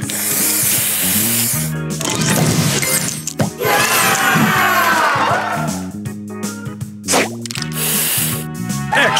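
A spray booster in the Match Masters puzzle game fires off loud hissing spray bursts mixed with clinking chimes and musical effects, while a cheerful game voice announces over the top.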